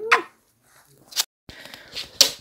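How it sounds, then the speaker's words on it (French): A household dog gives a few short, sharp barks and yips in separate bursts with quiet gaps between them, close by in an indoor room. "Ça c'est Babouche, le chien de ma mère."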